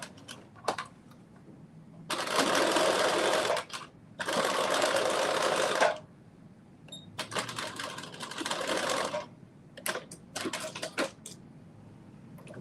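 A sewing machine stitching woven fabric for a cropped bodice, running in several separate bursts of a few seconds each, close and loud, with quiet handling clicks between runs.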